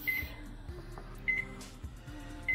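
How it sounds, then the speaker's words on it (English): A 1,000-watt microwave oven runs with a steady low hum, and short high tones break in near the start, middle and end. "I have to microwave it for"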